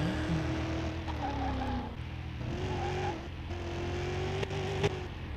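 A car's engine drones and revs as it is driven around a racetrack in Car Mechanic Simulator 2021, its pitch rising through gear changes with a couple of sharp knocks near the end.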